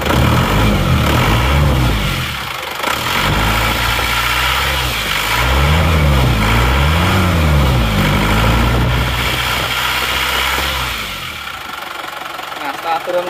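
An Isuzu Panther car engine running after an engine overhaul, a close, loud steady idle with rhythmic diesel knock and a few gentle revs before it drops to a quieter idle, with someone talking over it.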